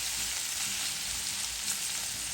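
Papaya and carrot bhaji fries in a pan with an even, continuous sizzle that is close and moderately quiet, and no talking.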